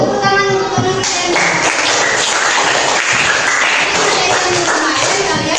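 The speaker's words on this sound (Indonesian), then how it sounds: "Tepuk tangan untuk teman kalian." A classroom of students applauds a classmate during a science lesson, steady dense clapping filling the whole stretch at close range, with a few voices mixed in at the start.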